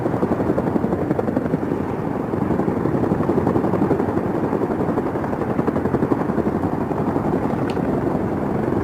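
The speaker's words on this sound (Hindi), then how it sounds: "Chinook हेलीकॉप्टर दुर्गम पहाड़ियों के ऊपर भी तोप को पहुंचाकर शत्रु को अचंभित कर देता है।" A twin-rotor Chinook military helicopter flies overhead during an air force firepower demonstration at Pokhran, producing a loud, continuous, rapid rotor chop throughout.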